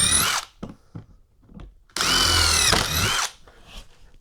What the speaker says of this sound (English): First I'm going to pre-drill these holes.